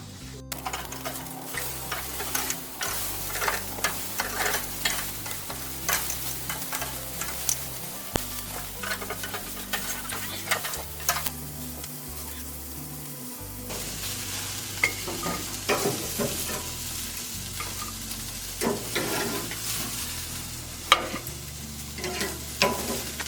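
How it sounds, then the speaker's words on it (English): Pork chops fry in a pan with a steady, close sizzle and crackle throughout, broken by occasional stirring and utensil clinks, with no talk over it. "it takes a while to flip them and everything"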